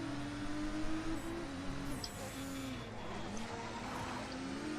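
Touring car drifting through corners in the racing game Race Driver: GRID, a steady engine drone with tyre squeal running underneath, continuous and fairly close throughout.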